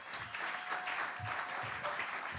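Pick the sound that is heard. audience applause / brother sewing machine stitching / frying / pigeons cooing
audience applause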